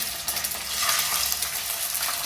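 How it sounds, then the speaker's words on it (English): Steady, dense sizzling and crackling of food frying in hot oil, loud and close, continuing without pause. "the oil nice and hot. There's the frying."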